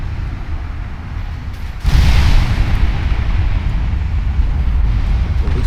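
Heavy 18-inch naval guns firing in the warship game Ultimate Admiral Dreadnoughts, a loud sudden boom that rolls into a long, dense rumbling roar of battle noise.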